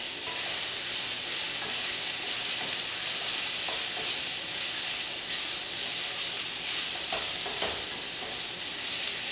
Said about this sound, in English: So we're going to stir fry these prawns until they're pink.